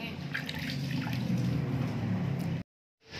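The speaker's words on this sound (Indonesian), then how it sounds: "ayam yang dipotong kecil-kecil tadi kita cuci dengan air yang bersih ya" Small cut pieces of chicken are washed in clean water, with continuous close splashing and running water that stops abruptly near the end before resuming briefly.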